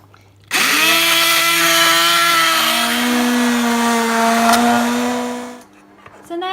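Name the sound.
hand blender blending soup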